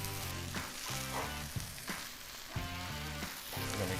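Pre-buttered bread toasts on a Blackstone griddle with the heat turned down, giving a steady crackling sizzle broken by a few soft thumps and scraping touches, close and fairly loud.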